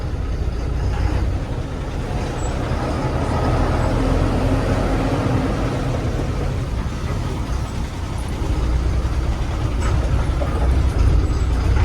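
A truck rumbles along steadily, its low engine drone and road noise continuous and close, with no voices.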